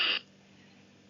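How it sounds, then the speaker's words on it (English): A cupboard door opens with one short, sharp creak lasting a split second, then falls silent, with only faint room hum behind it. "What if the dog has learned that this cupboard predicts food, and it sounds like this"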